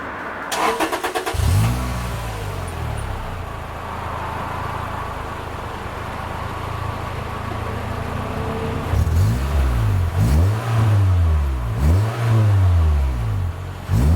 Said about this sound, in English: let's lower the car and then get a first start up